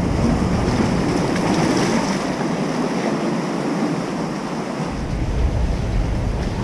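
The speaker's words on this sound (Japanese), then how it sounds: "テトラの中もですね、こんな感じで 波の動きがあるんで" Ocean waves surge and wash among tetrapod breakwater blocks on a rough day at a rocky shore in Iwaki, a loud continuous roar of churning water with wind buffeting the microphone.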